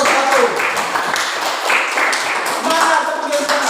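Audience applause for group 1 in a classroom session, a dense burst of many hands clapping loudly and steadily for a few seconds, with faint voices mixed in.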